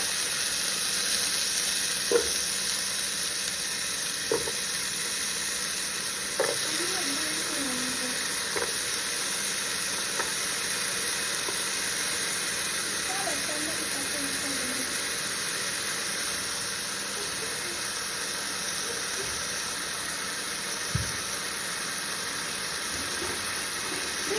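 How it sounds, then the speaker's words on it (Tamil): Potato pieces fry in hot oil in a pan for a potato and country-hen egg peratal, giving a continuous, fairly loud sizzle and bubbling with occasional soft clinks of stirring. "இப்போ பொட்டேட்டோ போட்டோன்னே நல்லா பபுளா வரும்"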